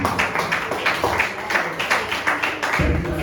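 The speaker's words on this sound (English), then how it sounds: "A round of applause, ladies and gentlemen." An audience at a Nigerian history presentation gives a round of applause, a dense, steady wash of many hands clapping together in a hall that continues throughout.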